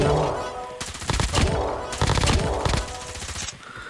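Rapid automatic fire from the M13 rifle in Call of Duty Mobile rattles out in two dense bursts with a short gap between, loud and close, while someone talks underneath.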